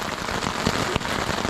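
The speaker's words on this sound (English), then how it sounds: "We got caught in the rain, freaking soaked" Steady thunderstorm rain pattering on a surface at a campsite, a dense hiss of drops with one sharper tap, close and fairly loud.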